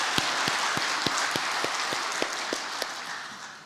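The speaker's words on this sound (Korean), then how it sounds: "하나님 앞에 영광의 박수 하겠습니다." A church congregation claps in a steady wash of applause during a Sunday service, with a few sharper, evenly spaced claps standing out on a regular beat.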